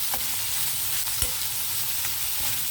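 Onions and curry leaves fry in a pan of hot oil for an Andhra-style gongura tempering, giving a steady close sizzle with a few light stirring clinks and no voices.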